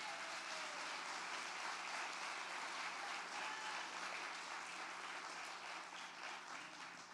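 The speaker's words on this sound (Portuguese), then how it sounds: "Pode aplaudir ao Senhor por isso?" A church congregation applauds during a Portuguese-language sermon, a continuous even roar of many hands clapping, sustained and fairly distant-sounding, with no speech over it.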